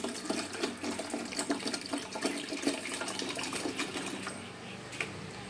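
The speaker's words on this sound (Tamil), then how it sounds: "வாங்க 1/2 லிட்டர் தண்ணி ஊற்றிக்கலாம்." Half a litre of water being poured into a container while mixing a homemade 3G natural pest-repellent solution, a continuous close splashing gush with a rapid rattling texture throughout.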